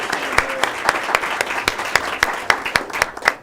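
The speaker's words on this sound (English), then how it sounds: "So let's give them a round of applause." Applause from a crowd at a high school soccer event, a steady patter of many hands clapping with several loud, close claps standing out over a short stretch.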